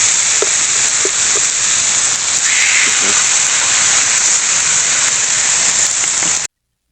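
Pork sizzling steadily on a Blackstone flat-top griddle over low heat, a continuous bright hiss with a few faint pops and clicks, running unbroken until it cuts off abruptly near the end.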